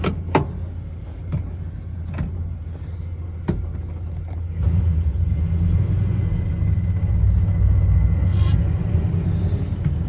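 A 1966 Ford F100 custom cab pickup rumbles low and steady from inside the cab, with several sharp clicks and knocks early on, then a deeper, louder engine drone as it pulls away.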